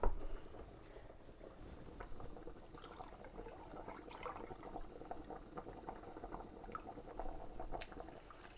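Gnocchi simmer in a pot after two cups of half and half are added, giving a steady low bubbling and liquid patter that continues evenly throughout with no talking.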